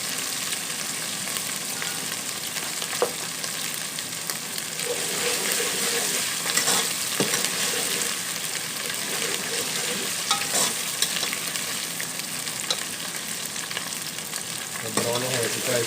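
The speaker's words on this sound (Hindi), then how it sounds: "इसमें डालेंगे हम 1 चम्मच अदरक लहसुन का पेस्ट। इस तरह अच्छे तरीके से इसको थोड़ा सा भून लेंगे" Ginger garlic paste fries with browned onions in a pan for a mixed mash and chana dal dish, giving a dense, continuous close sizzle with occasional spoon scrapes as it is stirred.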